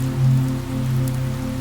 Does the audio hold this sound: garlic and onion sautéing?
no